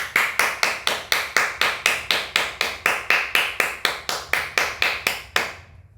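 A Yamaha PSR 530 organ's applause voice effect plays: a mechanical, evenly spaced run of about nineteen loud clap bursts in a steady rhythm, ending with a short fading tail.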